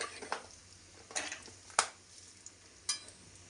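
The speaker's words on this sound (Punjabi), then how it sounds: "ਹੁਣ ਆਪਾਂ ਇਹਦੇ ਵਿੱਚ ਐਡ ਕਰਦੇ ਹਾਂ ਜੀਰਾ ਜੀਰਾ ਆਪਾਂ ਪਾਵਾਂਗੇ ਖੁੱਲਾ ਵਧੀਆ ਜੀਰੇ ਨੂੰ ਆਪਾਂ ਥੋੜਾ ਜਿਹਾ ਫਰਾਈ ਹੋ ਲੈਣ ਦਿੰਨੇ ਆ" Cumin seeds fry in hot ghee with a faint, low sizzle, and a handful of sharp metallic clinks and scrapes come from stirring in the pan, with no voices.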